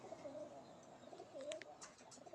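Pigeons on a small farm cooing in soft, low repeated calls at close range, with a few brief faint chirps from other birds.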